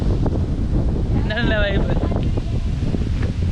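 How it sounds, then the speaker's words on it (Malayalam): Strong wind blows across a hilltop at a fog-covered resort in Wayanad, making a constant rushing, buffeting roar close to the microphone, while a person briefly speaks over it. "അടിപൊളി കാറ്റാണ് ഇവിടെ"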